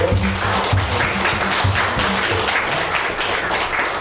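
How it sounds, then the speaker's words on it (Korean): Church congregation clapping in thanksgiving at a Thanksgiving Sunday service, a loud continuous patter of many hands sustained throughout, close and even, with no talk over it. "다시 한번 우리 하나님 앞에 박수로"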